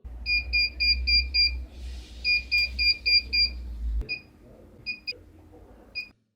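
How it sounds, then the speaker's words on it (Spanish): Loud, high-pitched electronic beeps from a bench power supply in quick repeated bursts over a low hum, then a few sparser single beeps after the hum stops. "otro problema que veo es el pitido"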